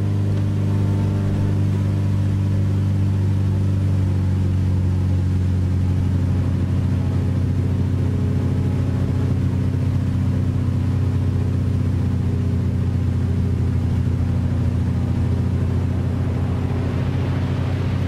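A steady aircraft engine drone in the War Thunder simulator battles, a P-38 fighter's engines humming continuously with deep low rumble and a constant whirring tone, loud and unbroken throughout, with no talking.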